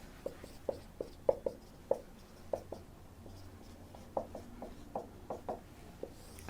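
A teacher writes on a classroom board, producing a run of faint, quick taps and scratches in uneven bursts with short pauses between words.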